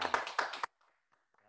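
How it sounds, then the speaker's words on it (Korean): Audience clapping at a quiz game event, a short burst of several hands clapping for about half a second before cutting to near silence. "저희가 박수 한번 부탁드릴까요? 그럼 박수."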